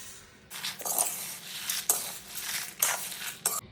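Chana dal and rice dry-roasting in a pan with curry leaves, stirred with a utensil in repeated scraping, rustling strokes, fairly quiet and close.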